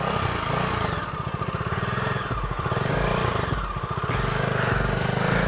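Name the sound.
friend's new motorcycle riding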